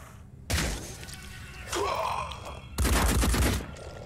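Return gunfire in the turn-based tactics game Phoenix Point: three loud bursts of shots, each about half a second to a second long, separated by brief pauses, with the last burst the heaviest.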